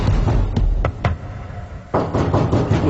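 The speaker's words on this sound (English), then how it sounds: "It was knocking sounds, tapping," Several sharp knocks and taps sound inside a house, irregular and close, separated by short quiet gaps before a louder burst of knocking returns.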